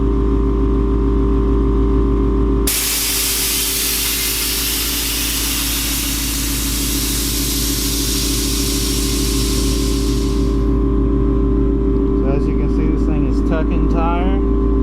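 Air Lift Performance air suspension deflating on a Ford Mustang GT: a sudden, loud, steady hiss of escaping air for about eight seconds over an idling engine, then fading, with brief voices near the end.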